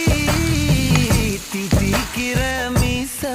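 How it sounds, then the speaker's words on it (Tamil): Onions sautéing in hot oil right after mustard seeds splutter, with curry leaves going in, for a Kovakkai poriyal: a steady loud sizzle broken by repeated stirring scrapes and clicks, with bright tonal streaks from spoon on pan and no talk. "கடுகு பொரிஞ்சதும் வெங்காயத்தை போட்டு நல்லா வதக்கலாம்."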